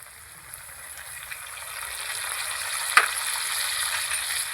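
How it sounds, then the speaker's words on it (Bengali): A paste of ground cumin, ginger, garlic and onion fries in oil after potatoes, a steady soft sizzle that swells gradually, with one sharp clink of a spoon or pan midway and no talking. "প্রথমে এখানে বেটে রেখেছিলাম জিরে আদা রসুন পেঁয়াজ এটা দিয়ে দিচ্ছি"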